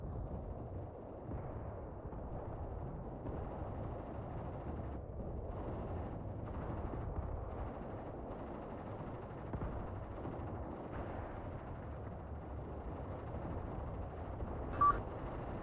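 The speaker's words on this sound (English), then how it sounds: "Taking accurate mortar fire are these, or no, that was their own" Continuous distant gunfire and mortar rumble from a WW2 battlefield in the game Mius Front, a dense steady roar of shots and low booms throughout, with one sharper crack near the end.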